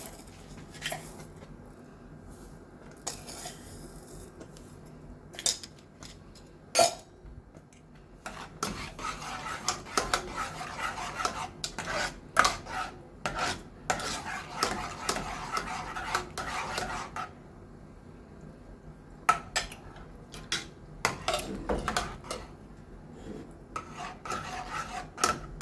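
A spoon stirring fruit and vermicelli custard in a metal pot, scraping and rasping against the bottom in uneven strokes with occasional sharp clinks, close up.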